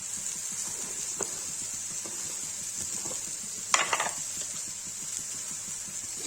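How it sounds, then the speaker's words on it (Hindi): Potatoes fry in a pan for an aloo paneer curry, with a steady soft sizzle throughout, a couple of light scraping stirs, and one brief louder clatter of a spoon against the pan near the middle. "इधर आलू फ्राई हो गया है, बनाते हैं।"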